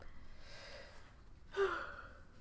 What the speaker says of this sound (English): I'm not even tired. Why am I yawning?